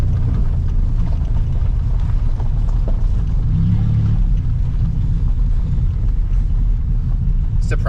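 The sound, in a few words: 2004 Ford Explorer engine running while driving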